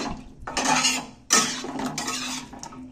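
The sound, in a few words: stirring goat meat curry in a pot with garam masala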